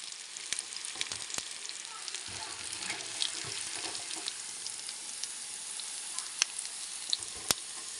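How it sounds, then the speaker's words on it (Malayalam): Chicken fries in oil with a constant, fairly quiet crackling sizzle and scattered sharp pops and ticks, close by and steady, with no voices over it. "ഇതുപോലെയാണോ നിങ്ങളൊക്കെ ചിക്കൻ പൊരിക്കൽ?"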